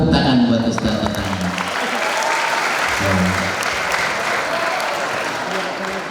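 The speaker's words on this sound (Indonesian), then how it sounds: "Nah, ini tepuk tangan buat Ustadz Tatang." Sustained applause from an assembled audience at a boarding-school public lecture, steady and fairly loud across the whole stretch, with a voice speaking over the clapping at the start and again midway.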